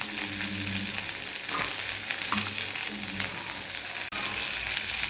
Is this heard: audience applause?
no